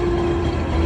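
A tram pulls up at a stop in Romania, giving a loud, steady low rumble with a constant mechanical hum, like a motor idling beneath the car body, and no speech.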